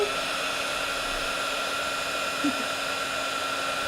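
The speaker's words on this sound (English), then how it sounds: "we are just going to hit this with the heat tool" A heat tool blows hot air onto clear embossing powder, making a steady, even whirring hiss like a hair dryer. The sound runs uninterrupted and nothing else is heard over it.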